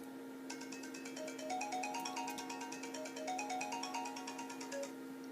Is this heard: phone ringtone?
yes